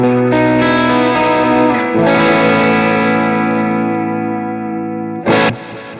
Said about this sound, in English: So it almost, again, sounds like a reverb and a delay all at once with just one effect on.